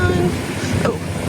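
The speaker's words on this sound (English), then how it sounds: "it's very windy today" Strong wind buffets the microphone outdoors in a steady, dense rumbling roar with no pauses, loud and close.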